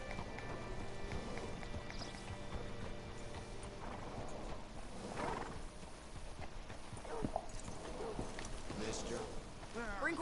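Horse hooves clip-clopping in Red Dead Redemption 2, a steady rhythmic trot under quiet ambient noise with someone talking over it.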